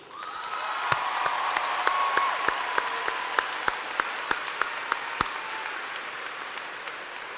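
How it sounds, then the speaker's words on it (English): Applause from an audience at a high school graduation commencement swells into sustained clapping that fills a large room, with a few louder individual claps standing out before it slowly fades. "Please help in applauding the recipient of this honor"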